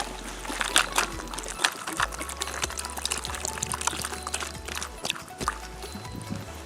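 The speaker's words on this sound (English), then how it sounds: "you can add water to it" Water poured onto roselle (sorrel) seeds, a steady close pouring and trickling splash running through the whole few seconds with irregular drips, no talking over it.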